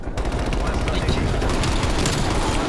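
Sniper rifle fire in a French-language multiplayer shooter game, sitting inside a dense, continuous wash of gunfire and explosions that stays loud from start to end, with players' voices chattering over it.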